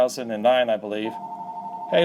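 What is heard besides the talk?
telephone ringing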